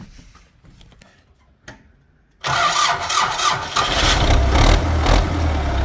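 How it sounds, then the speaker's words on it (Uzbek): A Belarus 82.1 tractor's engine starts after a few quiet clicks, catching with a sudden loud burst and settling into a steady, rumbling diesel idle close by. "Texnikamizni bitta yurgizib ovozini eshitamiz."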